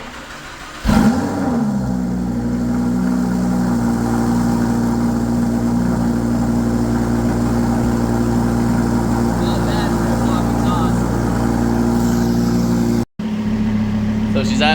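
Lamborghini Huracan with a titanium HMD exhaust fires up from a cold start and settles into a loud, steady, deep idle that drones on close by, with a brief cut near the end.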